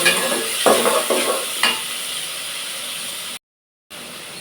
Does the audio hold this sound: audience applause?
no